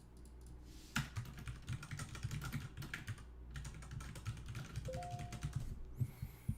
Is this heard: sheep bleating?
no